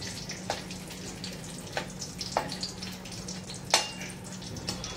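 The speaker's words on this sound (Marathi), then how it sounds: "आपण जे तेजपत्ता, विलायची, लवंग, मिरे ते घेतलं होतं ते आता आपण व्यवस्थित असं तळून घेऊया" Bay leaf, cardamom, cloves and black pepper frying in oil for veg pulao, a soft, low bubbling crackle with scattered sharper pops and a few clinks close by.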